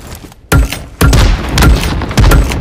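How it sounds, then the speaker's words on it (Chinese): A thrown grenade and grenade-launcher rounds go off in a first-person shooter video game, with about four heavy, close booms in quick succession, each ending in a rumbling tail. "把这颗雷扔出去，然后直接用榴弹器轰"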